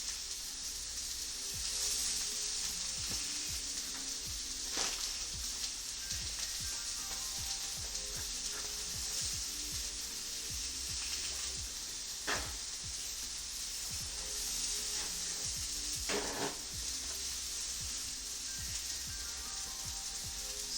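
Steak and scallions sizzle steadily on a grill pan for tacos, a soft, even hiss with occasional louder spits and crackles and no talking.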